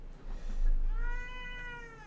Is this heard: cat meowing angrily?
yes